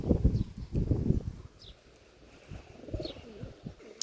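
Pigeons in a loft coo softly in low, throaty bursts, several calls overlapping at close range with quiet rustling and no talk.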